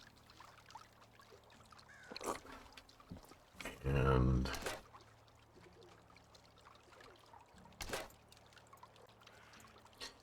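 Creek water sloshes and pours in a short splashing burst as the character drinks in the video game Medieval Dynasty, with a voice talking around it and ambient game background.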